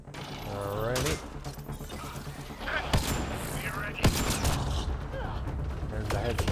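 Gunfire from the video game Mass Effect Andromeda, with several sharp shots and bursts over mechanical weapon sounds and game effects, and a voice talking over it at moments.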